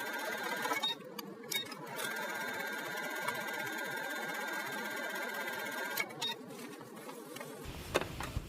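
Home sewing machine running steadily with a zipper foot, stitching along zipper teeth in a continuous buzzing drone that pauses briefly twice before the motor stops near the end.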